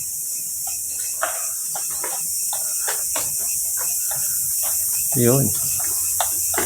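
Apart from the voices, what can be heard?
grasshopper chirping in abandoned morgue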